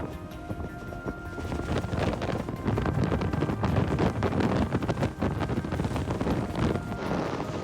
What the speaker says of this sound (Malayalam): അത്രയ്ക്കും കാറ്റാണിവിടെ.